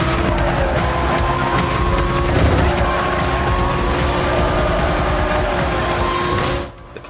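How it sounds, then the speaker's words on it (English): Racing-game car in Need for Speed The Run on Wii doing a power slide, a steady loud engine drone with faint tire squeal for about six and a half seconds before cutting off. "you can pull off moves such as power slides by easing off and on the gas"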